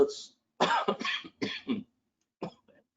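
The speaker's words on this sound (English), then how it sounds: "I still have a little bit of an involuntary cough that comes up" Several harsh, close coughs in quick bursts, followed after a short pause by one more brief cough.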